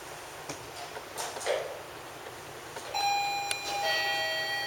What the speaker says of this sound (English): This is a doorbell alarm that has a flashing light attached.